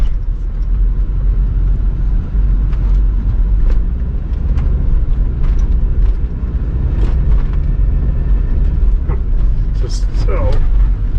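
A 2004 VW Passat winter beater with a clunky transmission drives through a sharp left turn on a snowy neighborhood street. A loud, steady road rumble runs throughout, with someone talking over it.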